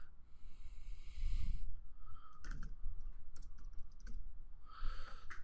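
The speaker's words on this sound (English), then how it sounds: "And I'm just typing in the code." Code is being typed on a computer keyboard, heard as quick, close clicks in short bursts and scattered single taps, with a few pauses and soft breathing in between.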